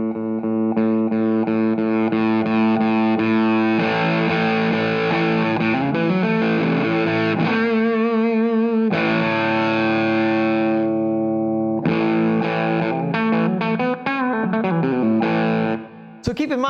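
An effects unit processes a sustained tone, the amplitude control turned up until the sound grows distorted and warbling, loud and continuous with shifting harmonic layers and brief dropouts.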